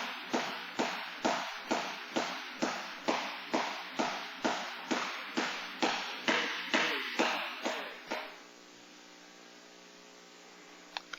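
A jump rope slaps the floor in a fast, steady rhythm, roughly sixteen crisp strikes over eight seconds, close and loud, then it stops and only a faint room hum remains.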